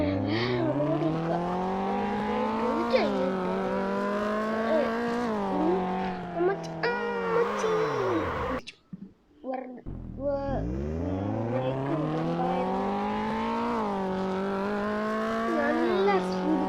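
Engine of a car in a driving video game whines at high speed, pitch climbing and dropping through gear changes, with a brief break in the middle before revving up again; a voice talks over it.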